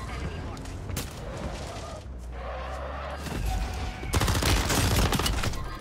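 Call of Duty: Warzone battle with rapid bursts of gunfire and sharp sniper cracks, loud volleys building toward the end.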